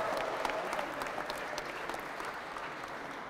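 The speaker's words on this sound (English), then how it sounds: "Let's give them a round of applause." A crowd at a Shelby County mayor-elect's speech gives a sustained round of applause, steady and full, fading slightly toward the end, with a brief voice at the start.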